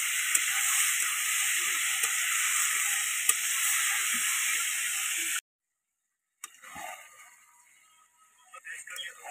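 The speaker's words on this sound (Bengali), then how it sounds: "চিকেন কষা।" Steady loud sizzling of chicken being sautéed kosha-style in a pan over a home fire at a small picnic, cutting off abruptly, then quieter clinks and faint stirring noises.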